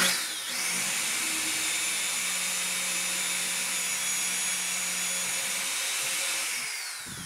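A power drill whines steadily as it bores into wood for kitchen cabinet handles through a template, one sustained run close up before winding down at the end.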